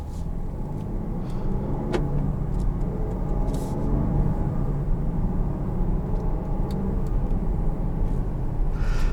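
A 2021 Jeep Grand Cherokee L with its 3.6 Pentastar V6 on the move, heard from inside as a steady low road and engine rumble with faint ticks and clicks.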